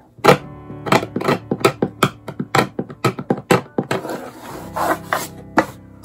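Wood being scraped out during a Gene Autry guitar restoration, a close, rapid series of about a dozen rhythmic rasping strokes, loud and dry.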